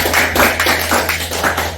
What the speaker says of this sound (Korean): 지금까지 설명해 주신 우리 대표님 박수로 감사하도록 해주세요